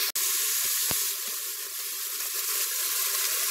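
Onion and cooked ham fry in a Cookeo pot, giving a steady close-up sizzle and hiss. A low hum runs beneath it, and a couple of sharp clicks sound near the start.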